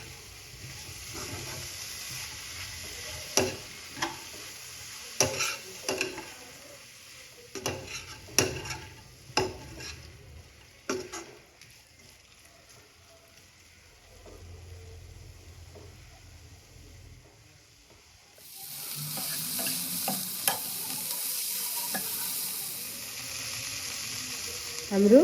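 Chicken gizzards fry with green onion, red chili and coriander leaves while being stirred, giving clattering scrapes over a soft sizzle; the frying swells into a louder, steady hiss near the end.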